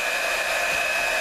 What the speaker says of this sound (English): we're gonna use a blow dryer to help dry the paper here